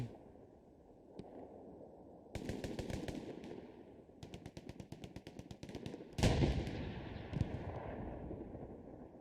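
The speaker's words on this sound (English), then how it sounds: "Oh, so that might have been PZ Bernabars and Tagati that blew up that Panzer IV." A Panzer IV tank explodes in the WWII shooter game Hell Let Loose: a heavy booming blast with a rumbling tail amid rapid bursts of machine-gun and rifle fire.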